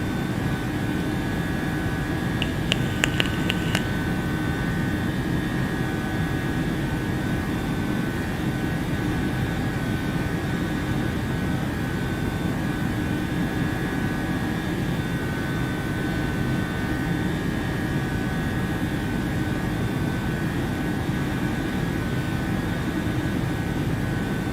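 A Boeing 737-800 in Ryanair livery cruises in Microsoft Flight Simulator, its jet engines giving a steady, unbroken drone with a faint high whine, hand-flown and trimmed, with no voices.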